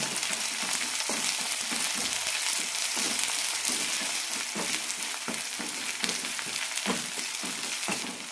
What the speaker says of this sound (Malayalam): ഒരു പകുതി തക്കാളി എരിഞ്ഞത് അര ടീസ്പൂൺ ഇഞ്ചി വെളുത്തുള്ളി പേസ്റ്റ് മസാലയുടെ പച്ചമണം പോകുന്നതിനായി ഒന്ന് രണ്ട് മിനിറ്റ് വഴറ്റിയെടുക്കാം